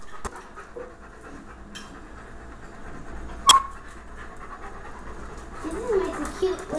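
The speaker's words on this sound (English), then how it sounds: "This makes a cute whimper" A dog pants steadily close by during play fighting, with a short whimper mid-way and soft whines near the end; a person speaks briefly in the background.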